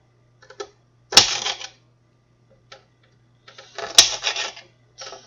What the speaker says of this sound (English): you're going to cut the celery into pieces. So, I'm going to cut it into thirds.